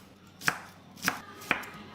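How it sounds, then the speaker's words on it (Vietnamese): A knife slices through leeks on a cutting board in three sharp, evenly spaced chops, crisp and close, with quiet pauses in between. "Hành bơ rô mình cũng xắt lát như thế này."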